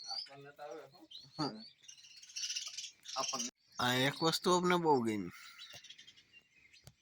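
Sparrows chirp around their nests at a rural Gujarati homestead, brief high tweets scattered between and beneath several people talking nearby.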